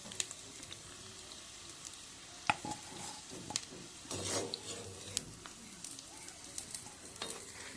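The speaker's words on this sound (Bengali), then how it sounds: "এখন আলু লাল লাল করে ভাজা হয়ে গেছে," Potatoes fry quietly in a pan for a soya chunk and potato curry, a soft continuous sizzle broken by occasional pops and light stirring scrapes.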